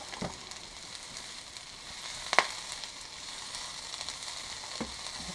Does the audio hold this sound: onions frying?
yes